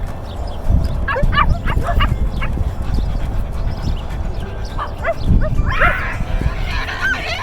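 A person imitates a dog, barking and yipping in short repeated bursts up close over a muffled, busy indoor background.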